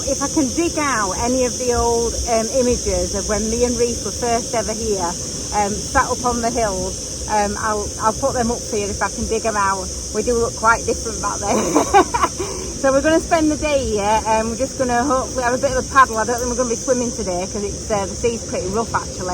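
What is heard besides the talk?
loud buzzing of insects in the heat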